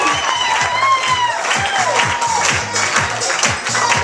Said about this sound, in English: Let's have one more round of applause for the entire bridal party